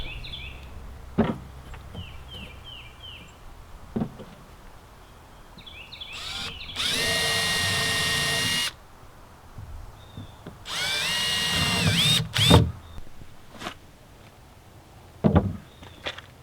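A power drill whirs into wood in two sustained bursts, each a few seconds long, amid light knocks and clatter, with faint birdsong chirping in the background.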